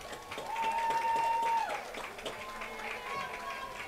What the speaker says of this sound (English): Let's have another round of applause for all of our BCHS senior football players, water girls, band members, and cheerleaders.